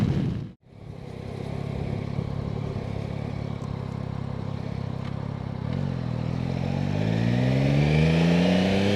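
A 2025 Yamaha Tracer 9 GT ridden in sixth gear, a continuous close engine hum with wind rush and a brief dip early on, then engine harmonics climbing as it accelerates toward the end.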